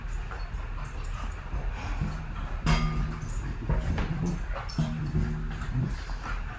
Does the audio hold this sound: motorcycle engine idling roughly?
no